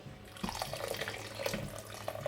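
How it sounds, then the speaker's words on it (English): Water poured into a pot of fried rice in a kitchen, a continuous splashing, gurgling stream with small drips, close and steady, with no talk over it. "Then add a bit of water"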